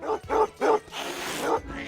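Dogs bark in a quick series of loud, close yips and woofs, three sharp barks followed by a rougher, noisier stretch and another bark near the end.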